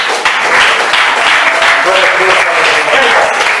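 A church congregation applauds in a steady, dense wash of clapping that fills the space, with a voice speaking over the applause throughout.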